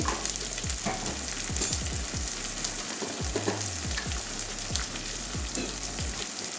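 Cumin seeds fry in hot oil with a steady, close sizzle, while a spoon keeps scraping the pan in short, repeated strokes.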